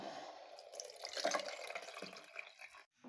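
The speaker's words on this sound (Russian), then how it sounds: "И теперь необходимо процедить" Cooled herbal decoction strained for homemade cough drops, a steady close trickle and dripping of liquid pouring through a strainer, with a few brief splashes and no talk.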